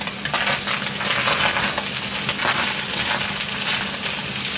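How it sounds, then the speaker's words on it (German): Vegetables sizzle and fry for lasagne in a Dutch oven, a steady, loud crackling hiss with occasional stirring scrapes throughout. "Also das Gemüse ein bisschen rein und dann weiter brutzeln lassen, oder?"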